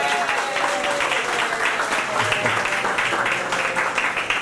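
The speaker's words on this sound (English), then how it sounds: "Let's get a round of applause." Applause at a ribbon cutting ceremony for the Summit on Hudson building, a dense, steady wash of clapping from a gathered crowd lasting throughout, with faint voices mixed in.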